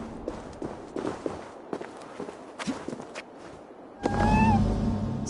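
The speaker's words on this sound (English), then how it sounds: "Who put you up here, little cat?" A cat meows in Assassin's Creed Valhalla, perched up on one of Freya's statues: one clear, rising mew near the end, loud and close, following a stretch of soft footsteps and rustling.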